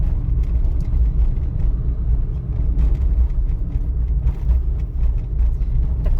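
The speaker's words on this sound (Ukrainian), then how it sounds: "Я витискаю щеплення та переходжу на третю." A car engine drones steadily through a gear change from second to third, a loud continuous low rumble with road and cabin noise throughout and no clear pause.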